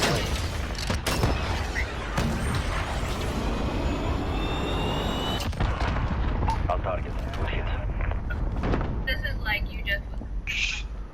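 Gunfire and explosive booms from a Modern Warfare team deathmatch video game, dense and continuous with sharp cracks and heavy rumbling, while a voice talks over the action.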